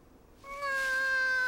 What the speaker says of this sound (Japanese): あ、猫。